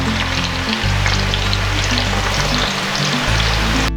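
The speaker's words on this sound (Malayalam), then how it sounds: "നമ്മൾ കോരി വെച്ച സവോള കണ്ടില്ലേ, നല്ല ക്രിസ്പി പോലെ ശബ്ദം ഇങ്ങനെ വരണത്." Sliced onions deep-fry in hot oil for biryani, a loud, steady, dense sizzle and crackle running the whole time with no talk over it.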